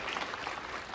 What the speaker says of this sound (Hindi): एक बार अपने लिए घनघोर तालियां बजा दो।